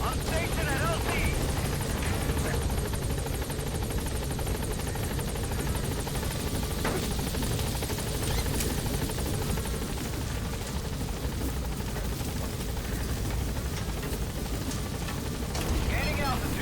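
The Pequod helicopter in Metal Gear Solid V roars continuously with dense rotor noise as it arrives at the landing zone, loud and steady throughout, with voices talking over it.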